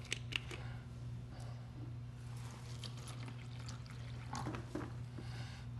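Cold Aquafina bottled water being poured, a quiet, irregular trickle and splash with several brighter spurts, set against a low steady hum in a quiet room.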